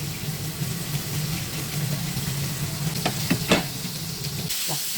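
Salmon fish sizzles steadily on a grill, a continuous close frying hiss with a few brief crackles and pops near the end.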